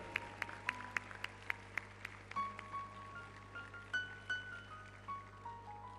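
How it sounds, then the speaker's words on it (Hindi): An audience claps at a yoga session marking Patanjali's 28th foundation day, with scattered sharp individual claps and a sustained low hum beneath, moderately quiet and without speech. "एक बार इनके लिए ताली बजा दो"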